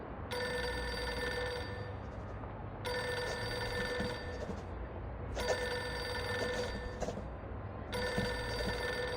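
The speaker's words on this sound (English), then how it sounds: "Pick up the phone already." A telephone rings repeatedly in the video game Reverse: 1999, loud and close, in four long bursts of bright electronic ringing separated by short pauses.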